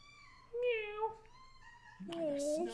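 A cat gives two drawn-out, wavering meows, the second higher and stronger, heard fairly close against a quiet room hum.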